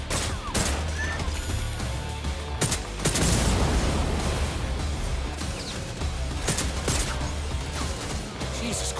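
Rapid nail gun shots and heavy impacts in a chaotic Ubisoft video game action scene, loud crashing bursts over a constant roar of game sound with no speech.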